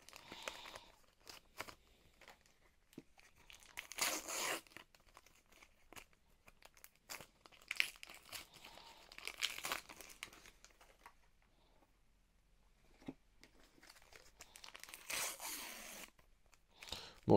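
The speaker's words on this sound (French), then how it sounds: "Je vais ouvrir les 4 boosters et ensuite on va regarder les cartes tous ensemble." Crinkly foil wrappers of Panini Super Mario card booster packs being torn open and crumpled, with bursts of close rustling and ripping separated by quieter handling gaps.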